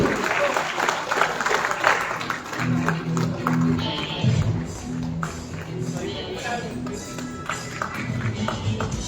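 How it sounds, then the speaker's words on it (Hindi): Audience applause at a conference honouring BC Sakhi women bankers under UPSRLM, a crowd clapping steadily and fairly loudly for about nine seconds, with background music and voices mixed in. "तालियों में कोई कमी मत होने दीजिए।"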